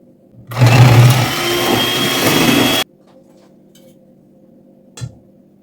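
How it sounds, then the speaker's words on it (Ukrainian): An electric hand mixer beating dough with melted butter whirs loudly and steadily for about two seconds, then stops abruptly, followed by quiet and a brief clink. "і продовжую збивати ще приблизно 2 хвилинки."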